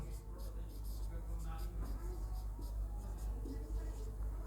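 Writing during a Class 10 science lesson gives soft, scratchy pen or chalk strokes running under a teacher's steady speech in a classroom with a low background hum.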